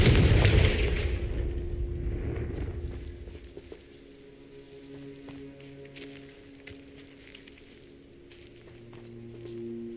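A fiery blast spell detonates in the Hogwarts Legacy video game, a loud booming explosion at the start that rolls off into a quieter rumble, followed by faint game ambience and scattered small clicks.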